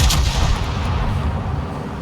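Naval guns firing from warships in the World of Warships video game, a dense low rumble of booming shots in the first half second that settles into a sustained, rolling heavy roar.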